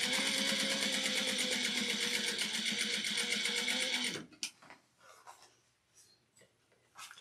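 A sewing machine stitching a fabric stocking runs in a steady, fast whirring rhythm for about four seconds, then stops, leaving faint handling clicks and rustles.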